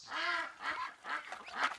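Ducks quack in the video game You Don't Know Jack, several nasal honking quacks in quick succession, clear and close with no talking over them.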